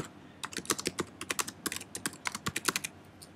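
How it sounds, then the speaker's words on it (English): Rapid typing on a computer keyboard while entering text in Photoshop CS5, with clicky keystrokes in quick irregular bursts and brief pauses, close and clear, with no voices. "I could just click point and actually start to type some text."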